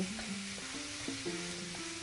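Soft sizzling of spice paste frying in a pan for an okra dish, with a faint low hum and tonal background noise, no voices.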